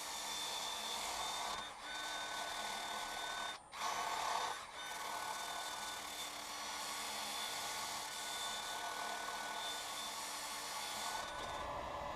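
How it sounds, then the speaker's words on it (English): A wooden turned bowl is sanded, giving a steady, close, continuous whirring rasp that runs nearly unbroken, with a few brief dips in level. "So we'll start sanding."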